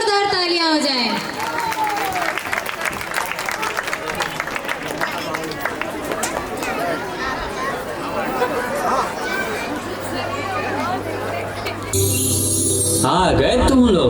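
An audience claps and cheers for young children after a horror-themed performance at a school annual function, with crowd chatter and noise filling the room throughout.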